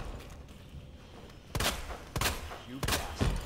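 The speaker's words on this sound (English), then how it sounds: "I am shooting you in the face." Gunshots in the survival-horror game Resident Evil 2, three heavy, separated blasts about a second apart over a low rumbling ambience, close and punchy with no voices.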